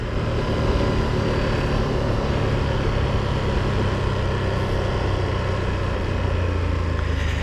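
A 2025 Ducati Streetfighter V2S sport motorcycle engine drones steadily with a loud, continuous exhaust rumble and no breaks.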